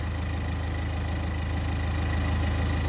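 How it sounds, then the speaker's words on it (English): The 1.5 dCi diesel engine of a Nissan Note E12 idles steadily with a continuous low, even thrum and fine rhythmic knock, moderately close and alone. "which is all right because the engine is idling"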